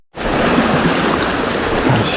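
Big ocean waves break on a rocky point in the dark at high tide, a loud, continuous roaring wash of surf that starts abruptly and keeps churning without a break.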